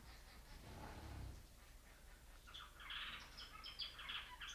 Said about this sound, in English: these finches are obnoxious, I know.